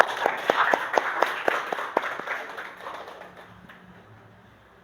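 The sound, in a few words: classroom applause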